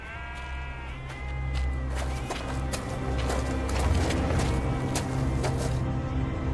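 Sheep bleat repeatedly near a haystack in a desert pasture, several overlapping wavering calls close by over a dense background of hooves and rustling, with no talk.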